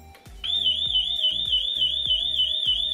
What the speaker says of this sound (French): c'est pour déclencher l'alarme manuellement